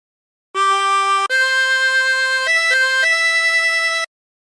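A 24-hole tremolo harmonica plays the opening phrase of Amazing Grace, with a few sustained, wavering reedy notes that step between pitches. It is loud and close, alone, and ends cleanly.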